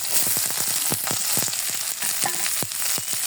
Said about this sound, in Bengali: দেখেন আমার পেঁয়াজ মরিচটা বাদামি কালার হয়ে আসছে।